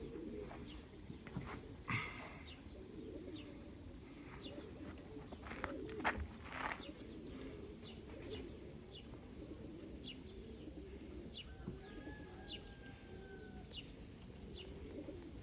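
Soft, low cooing of pigeons repeats in the background, with a few higher chirps and tweets scattered over a steady outdoor hum.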